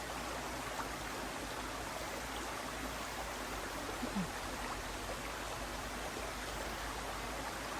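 A small creek flows steadily in the outdoors with a constant, even rushing and trickling of water, moderately loud and unbroken, with no voices.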